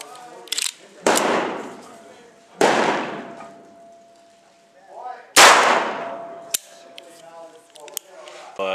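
An AMT Micro Automag II .22 magnum pistol fires three sharp, loud shots spaced a couple of seconds apart, each cracking and ringing off briefly outdoors, with faint talk in between.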